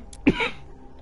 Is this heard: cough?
yes